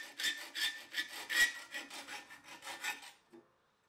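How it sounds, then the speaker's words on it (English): A hand saw cuts through aluminium bi-fold door track with quick back-and-forth rasping strokes, close and steady for about three seconds before stopping. "I can cut my aluminium track to the width of the opening."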